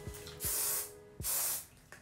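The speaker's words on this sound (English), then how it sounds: "This is the spray from Bjorn Accent Mega Fix Hairspray." Bjorn Accent Mega Fix hairspray is sprayed in two short, close hissing bursts with a brief pause between them, set against a quiet room.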